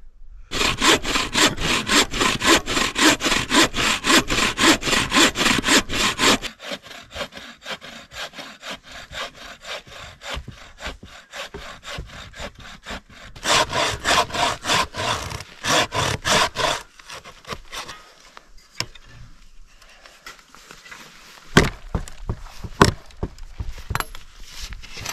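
Hand saw cutting wood for a tent stove at a snowy winter camp: fast, rhythmic rasping back-and-forth strokes up close, stopping and restarting in several loud bursts with quieter gaps.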